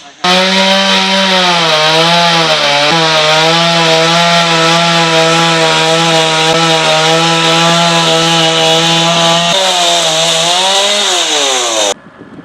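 Chainsaw cutting through a tree, a loud close continuous whine holding steady pitch with slight dips under load, then slowing and stopping near the end.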